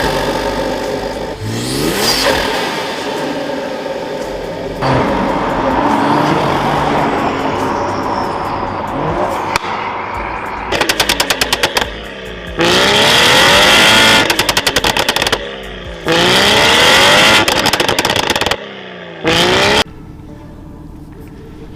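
Straight-piped BMW M140i on the move, its loud engine and intake rising and falling through repeated revving pulls and gear changes, with sharp bursts and brief drops between accelerations, close and dominant throughout.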